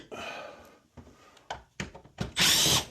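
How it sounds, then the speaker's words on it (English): A power drill backs screws out of a mini split unit's cover in short, whirring bursts, closing with a longer, louder spin, close up with brief pauses between. "Take the screws out."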